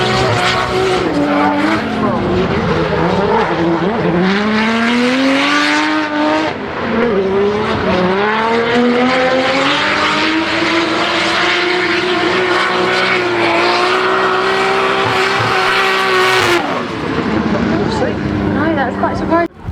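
An RB26-engined drift car at a British Drift Championship round at Three Sisters howls at high revs with rising and falling engine pitch and squealing tyres, loud and continuous close by.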